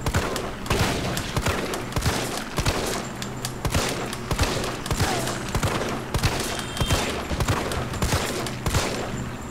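Rapid gunfire from Resident Evil 3 Remake, loud bursts of repeated shots in quick uneven clusters with heavy low thumps, continuing through the whole stretch with no talking.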